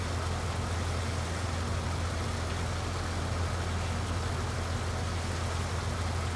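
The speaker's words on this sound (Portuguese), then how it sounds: "Lá vai esse trator aqui também." Steady low engine drone of a tractor in the farming game Farming Simulator 19, driven on a corn silage farm. It hums continuously at moderate level for several seconds, with no talking over it.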